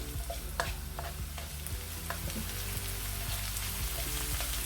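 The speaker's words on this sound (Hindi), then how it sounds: "जितनी देर में ये ऑनियन प्याज फ्राई हो रहा है" Chopped onion lightly frying in a pan, a soft continuous crackle and sizzle with occasional stirring clicks, steady and fairly quiet throughout, over a low mechanical hum.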